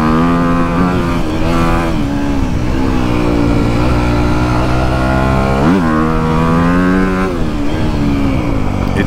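A motorcycle engine runs steadily and loud, its pitch rising and falling as it slows with almost no engine braking and picks up again, with no voices.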